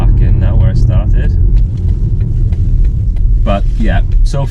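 A BMW 330e car driving slowly as it pulls back in to park, a steady low engine and road rumble running throughout with someone talking over it.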